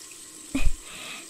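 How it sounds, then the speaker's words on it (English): Water from a tap runs briefly in a soft ASMR setting as a wound is washed, a short close splash of about a quarter second, then quiet. "let me wash your wound first."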